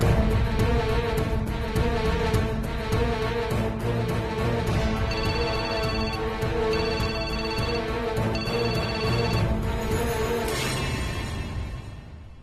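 A telephone ringtone plays in a steady repeating melodic pattern over a dense musical backdrop, sounding continuously before fading at the end.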